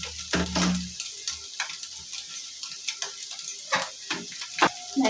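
Boiled Maggi noodles are poured into a pan with a heavy wet slosh, followed by a quiet background with repeated light scrapes and taps of stirring.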